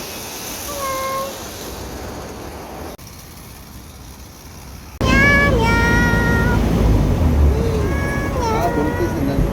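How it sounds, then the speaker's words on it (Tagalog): Street cats meowing, several clear near meows and a caterwaul, with a quieter stretch midway, then louder meows over a busier background with engine rumble. "Meow, meow, meow, meow."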